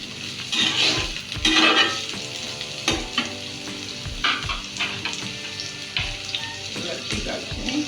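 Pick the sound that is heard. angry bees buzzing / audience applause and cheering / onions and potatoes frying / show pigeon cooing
onions and potatoes frying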